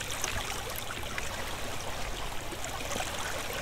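Water flows in the block-building game Minetest as a steady, even trickle, like a stream. The sound is quiet and continuous, with no talk over it.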